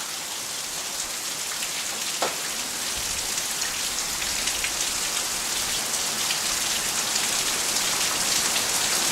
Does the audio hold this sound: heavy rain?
yes